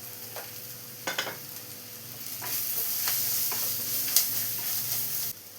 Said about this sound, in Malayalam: ഇനി ഇതെല്ലാം കൂടെ നന്നായി ഒന്ന് വഴച്ചെടുക്കണം.